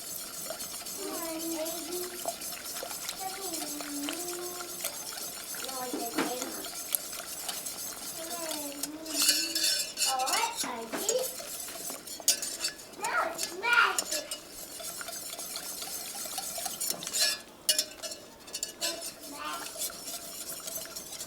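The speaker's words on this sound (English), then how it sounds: "I'm going to whisk this until it thickens." A whisk beats flour into cream of celery soup in a pot, giving a steady metallic stirring and occasional clinks against the pan that start soft and grow louder and busier later, with a voice and other talk in the background.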